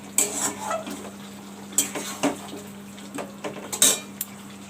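Chicken sautés with spices in a pot, a spoon scraping and clanking against the metal in irregular bursts over a low background hum, close up with no voices.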